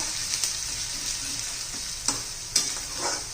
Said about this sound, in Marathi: आपला कांद्याचा कलर बदलायला लागलेला आहे अजून एखाद दोन मिनटं परतूया चांगला